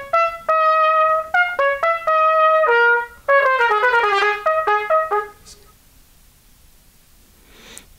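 A trumpet recorded close in a studio session plays bright, clean notes: a few held tones and short stabs, then a quick descending run, fading into a quiet room tail.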